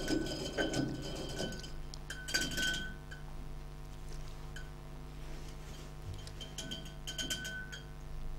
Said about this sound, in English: Now take the egg beater and clean it with the solvent.